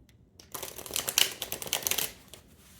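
A deck of tarot cards being shuffled, a rapid fluttering riffle of cards lasting about a second and a half, close and fairly soft, with no voice over it.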